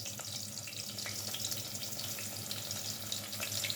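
Onions frying in a pan over raised flame for vegetable pulao, a steady dense hiss and crackle of hot oil running throughout, close and even.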